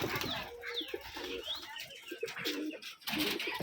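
Rajshahi Giribaz pigeons coo at a pigeon farm, soft repeated low calls mixed with chirps and a faint flutter of wings in a busy, noisy space.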